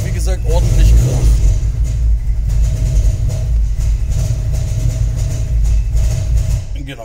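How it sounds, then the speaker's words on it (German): A Porsche Boxster 986 with the 2.5 engine idles roughly and unevenly, a loud, close, continuous low rumble with a sawing edge, while a person talks briefly over it. "Also wie ihr jetzt wahrscheinlich auch hört und seht, der Leerlauf ist ein bisschen unrund"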